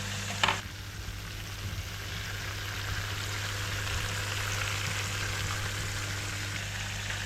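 Fish fillet frying in a hot pan, a steady close sizzle with crackling spatter that holds evenly throughout, with a brief clatter near the start and no talking.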